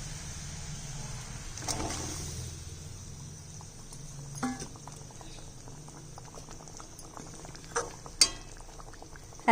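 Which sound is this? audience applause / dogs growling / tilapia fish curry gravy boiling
tilapia fish curry gravy boiling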